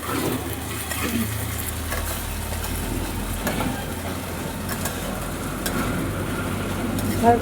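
Ginger-garlic paste sizzles steadily in a pan while a spoon stirs it with soft, repeated scraping strokes, close and moderately loud, with no talking.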